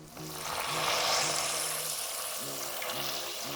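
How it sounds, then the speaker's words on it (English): Water poured into a hot pan of cooking yogurt sauce for Kashmiri lamb koftas, a steady broad hiss and sizzle lasting throughout, close and fairly loud with a low rhythmic hum beneath. "and pour some water"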